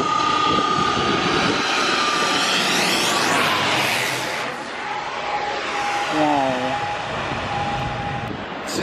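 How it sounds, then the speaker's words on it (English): A small aeroplane passes overhead on Lanzarote, its steady engine drone loud and close with a sweeping pitch as it flies by, while a voice talks briefly in the background. "Little aeroplane."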